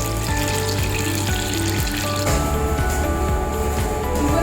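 Pazhampori, battered banana fritters, cook in a modest amount of oil, producing a continuous close sizzle with occasional wet squishy bursts and a persistent low hum underneath, with no one speaking.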